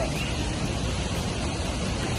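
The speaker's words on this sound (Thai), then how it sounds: "ได้ยินเสียงน้ำตกอยู่นะครับ" Steady rushing roar of Khiao Suwan waterfall in Khao Yai, a continuous broadband wash of falling water with no breaks, loud and unbroken throughout.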